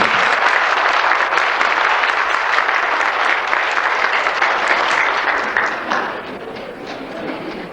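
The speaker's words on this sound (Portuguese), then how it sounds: "Uma salva de palmas para o nosso país" A large audience at an international gathering gives a warm round of applause to welcome a speaker, loud dense clapping sustained for several seconds before gradually thinning and fading toward the end.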